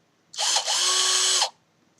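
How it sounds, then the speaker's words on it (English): A single short burst of a heavily modified cordless electric drill with a built-in fan and doubled-up battery pack whirring at high speed, starting abruptly and stopping after about a second, alone with no talk. "I'm going to use the obligatory, heavily modified electric drill"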